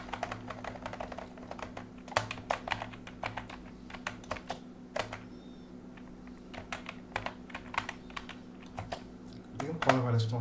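Typing on a computer keyboard while entering text into a browser automation tool, with bursts of fast, close key clicks and brief pauses over a low steady hum.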